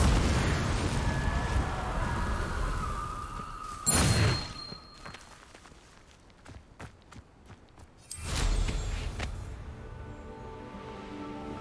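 The Confringo fire spell in Hogwarts Legacy, two sharp explosive bursts several seconds apart, each a loud blast, with scattered clicks and footstep-like taps in the quieter stretch between them.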